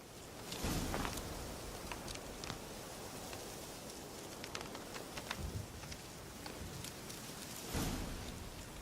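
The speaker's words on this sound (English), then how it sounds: "Looks like rain." Steady hiss of rainfall with scattered drops, plus a few heavier thuds and rumbles around it, continuous throughout, in The Witcher 3: Wild Hunt, Hearts of Stone.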